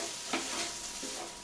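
Vegetables being stirred into cooked rice in a frying pan: a few soft scraping strokes with a faint sizzle underneath, quiet and close, no talking.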